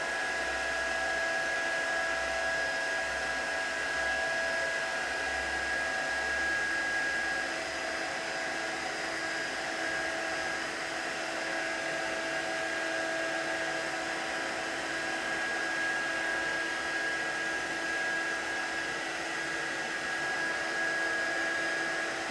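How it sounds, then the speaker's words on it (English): A heat gun blows hot air steadily over a poinsettia craft card, a continuous loud whooshing roar with a faint whine that holds for the whole stretch without talk. "we're going to heat this up with our heat gun again"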